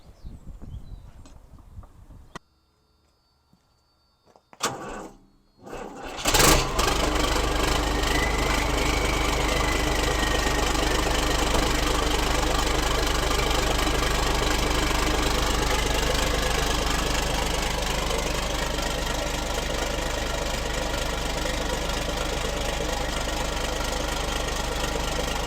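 A service truck's engine runs through a straight pipe exhaust, a loud, steady, rough idle with a knocking undertone that fills the scene after a few brief clunks and a short silence.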